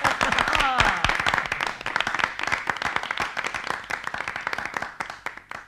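An audience claps steadily at a Malayalam stage performance, a dense burst of applause that thins into scattered, rhythmic hand claps.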